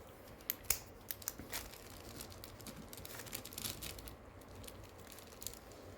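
Scissors snip through fabric for a child's halter neck dress, a quiet, irregular series of short crisp cuts with faint rustling of cloth between them, no voices.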